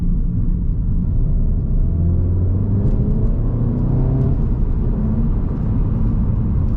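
A Volkswagen Golf GTI Mk7.5 with APR Stage 1 tune pulls hard in third gear from around 20–30 mph, its engine giving a steady, loud rumbling drone from inside the cabin that rises gradually in pitch throughout.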